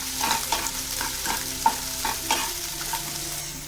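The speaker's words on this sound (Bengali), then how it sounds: "তার মধ্যে আমি পেঁয়াজ কুচি, ক্যাপসিকাম কুচি আর বিনস কুচিগুলো দিয়ে দিচ্ছি। একটু নাড়াচাড়া করে দেবো।" Chopped onion, capsicum and beans stir-fried for veg chow, with a rhythmic series of spatula strokes scraping the pan roughly every half second over a soft, steady sizzle.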